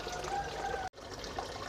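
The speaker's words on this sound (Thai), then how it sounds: "ตัวนั้นก็เป็นน้ำตกลงมา" A fish pond aerator spills water back into the pond in a steady, gentle trickle and splash, close by, with a brief cut partway through.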